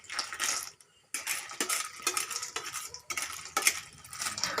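Shellfish stir-fried with holy basil in a pan, metal utensil scraping and clinking against the pan in repeated close strokes with brief pauses, over a soft sizzle.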